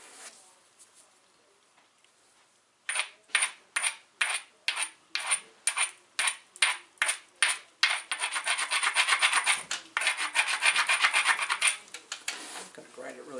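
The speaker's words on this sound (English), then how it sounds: "I'm going to grind it really well." A flint edge ground with an abrasive during flint knapping, giving a run of about a dozen sharp, evenly spaced rasping strokes, then a faster, denser stretch of continuous scraping, close and loud with no talk.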